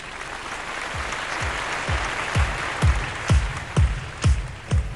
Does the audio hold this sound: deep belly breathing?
no